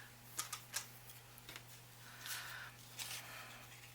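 Several sharp slicing clicks and a short sliding swish as patterned paper is trimmed on a paper trimmer, quiet and close, with no talking.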